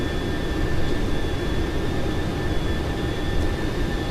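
Boeing 737-800 jet engines roar in a flight simulator game, a steady loud broadband rumble with a faint high whine held throughout.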